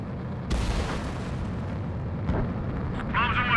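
Bombs bursting in the Ace Combat 7 flight game, a sudden heavy explosion after half a second that rolls on as a low rumble, a second thud later, and a brief radio-like voice near the end.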